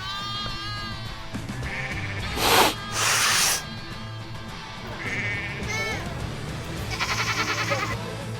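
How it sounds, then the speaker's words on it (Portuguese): Goats at Bunratty Folk Park in Ireland give a string of wavering, nasal bleats, close and clear, with two loud, harsh bursts of noise partway through. "As cabras são naturais do leste europeu e da Ásia."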